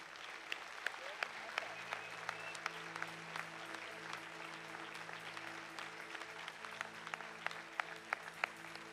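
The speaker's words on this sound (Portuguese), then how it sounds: "Dá uma salva de palmas para Jesus." A church congregation claps steadily, scattered sharp claps over a soft, distant room tone, with some voices murmuring underneath; fairly quiet and even throughout.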